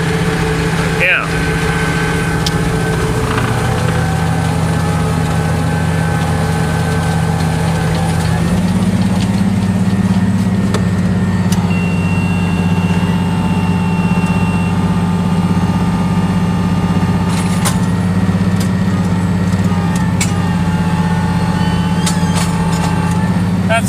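International 1086 tractor engine running while planting corn: a steady, loud, close diesel drone with a deep rumble and a constant hum, continuing unbroken throughout.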